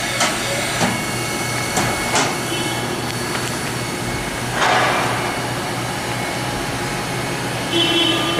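A 2000 Haas VF-5 CNC vertical machining center with a 40-taper spindle running at speed, a steady whining hum with faint hissing and occasional soft clicks from the machine.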